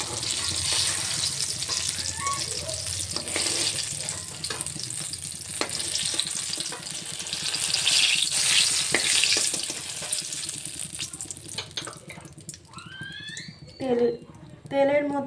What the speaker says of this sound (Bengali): বেগুনগুলো অল্প লবণ দিয়ে লাল করে ভেজে রেখে দিচ্ছি